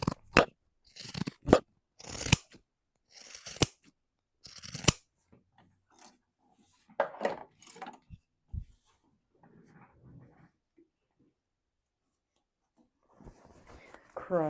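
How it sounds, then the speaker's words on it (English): Pinking shears trim the corners of a cork fabric backpack with several sharp, crunchy snips in quick bursts. Quieter handling noises and a brief spoken voice follow. "I'm just going to grab my pinking shears and trim up these corners"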